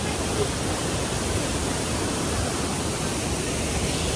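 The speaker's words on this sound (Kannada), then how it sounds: "ಇದು ದೊಡ್ಡ ಫಾಲ್ಸು." Soormane waterfall in Kalasa roars as a steady, loud, broadband rush of falling water from a good height, continuous and unchanging throughout.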